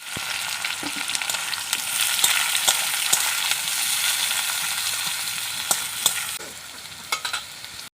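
Onions sizzle steadily in hot oil in a pan with bay leaf, whole garam masala and a dried chilli, broken by a few sharp scraping stirs and clinks, loud and continuous with no talk.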